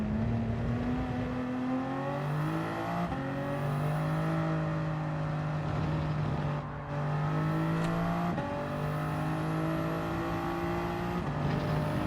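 A Toyota Supra's engine in Gran Turismo 7 drones steadily at high revs, its pitch climbing and dropping in smooth waves through shifts and corners, with faint tire noise and no talk over it.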